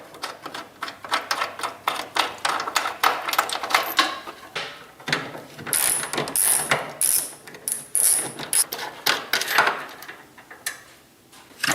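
A ratchet wrench clicks in quick bursts while backing out 13 mm bolts from the rambar of a 2022 Ram TRX, close and sharp, with brief metallic clinks between runs.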